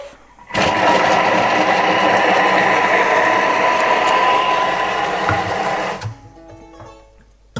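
A Thermomix TM7 kitchen machine runs at speed 5 on a spiralizer casserole mix, a loud, steady motor whir that starts abruptly, holds for about five seconds and then cuts off.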